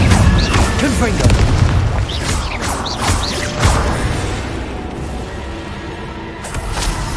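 Confringo spell explosions in Hogwarts Legacy, heavy booms and crashes with whooshing bursts layered over continuous game noise, loud and close, with a voice talking over parts of it.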